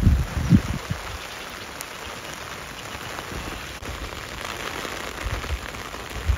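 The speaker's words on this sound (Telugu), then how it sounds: "సర్లే, వర్షం పట్టడమే ఇంపార్టెంట్." Steady rain falls on a farm, a dense even hiss of drops hitting surfaces that carries on throughout, with a few heavier patters and thumps close by near the start and end.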